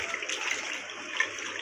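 Water running and splashing while freshly cut vegetables are rinsed, a brief continuous rushing wash close by, with no voices.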